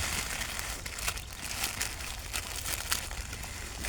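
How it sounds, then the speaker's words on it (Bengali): Mixed soil is pushed into small polythene bags with continuous crinkling and rustling of plastic and gritty scraping, close and fairly loud, with no talking. "এখন আমরা মাটিগুলা পলিতে ভালোভাবে দিয়ে নেব।"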